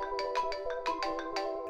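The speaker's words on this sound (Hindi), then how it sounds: "इसी दौरान उसके दोस्त सुशांत ने उसे फ़ोन किया" A phone ringtone sound effect in a Hindi horror story plays a short, fairly quiet melodic pattern of quick repeated chiming notes, alone without speech.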